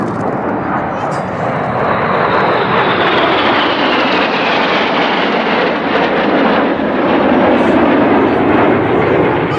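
Red Arrows jets fly a close-formation display at Duxford airfield, producing a loud, continuous roaring jet rush that swells and shifts in pitch as the aircraft pass overhead.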